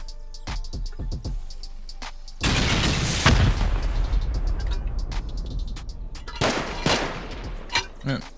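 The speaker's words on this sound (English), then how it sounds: "We're going with rockets." Rockets exploding against a player-built base during a raid in a survival video game, with sharp gunfire-like bangs early, then a heavy sustained blast and rumble, followed by scattered booms and impacts.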